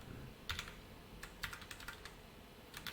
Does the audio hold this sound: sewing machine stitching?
no